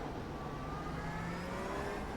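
Porsche 992 GT3 R race car engine revving at a race start in iRacing: a steady, loud engine drone with rising whine tones layered from the field of cars, continuous and alone without talk.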